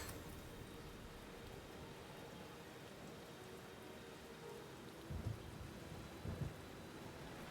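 Thunder from a lightning stream effect: a constant rain-like hiss with two brief, low rumbles near the end, all quiet and without speech.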